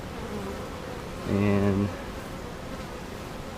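Honeybees at an open hive make a steady, low hum. One bee passes close by with a brief, louder buzz, and a voice is faintly heard.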